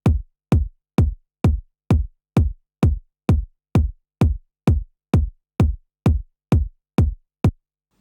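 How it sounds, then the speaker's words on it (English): A four-on-the-floor electronic kick drum in Logic Pro X thumps sixteen evenly spaced beats, each a deep, punchy hit that decays quickly into silence, loud and entirely alone. "What I've got within this track so far is a 4-to-the-floor kick drum."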